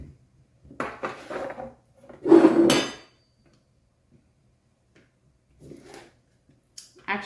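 Smoked sausage being unwrapped and cut up for canning: crinkly handling and a loud burst of scraping and knocking on a cutting surface, then quieter brief clatters separated by silence.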